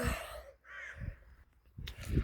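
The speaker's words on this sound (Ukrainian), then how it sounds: "Пташечки кругом. Це ідеально." Crows caw a few times at a moderate distance in a Roblox video game, harsh calls spaced out with quiet gaps between them.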